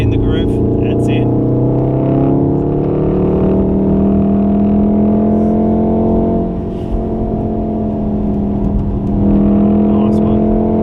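A Volkswagen Golf R on a race track at a Wakefield track day gives a loud, steady engine drone from inside the car, pitch shifting as it brakes and then accelerates, with an instructor talking over it.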